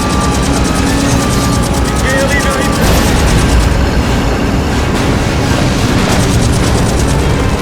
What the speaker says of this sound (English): Listen! I hear airplanes!